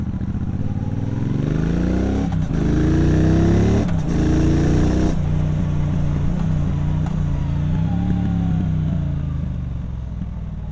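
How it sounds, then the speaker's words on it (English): A 2022 Triumph Bobber Goldline Edition with a 1200 parallel twin engine rumbles through its twin pipes while riding, a steady close exhaust drone that shifts in pitch through gear changes, with no voice over it. "The twin pipes on this bike from that parallel twin 1200 engine just sound beautiful, absolutely beautiful."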